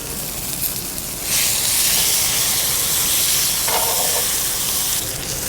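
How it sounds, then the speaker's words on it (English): Steak searing in a ripping-hot cast iron pan, a loud steady sizzle that bursts in after a quieter start and holds strong to the end, with no talking. "we need to wait that the cast iron will be ripping hot so we can sear that steak both sides"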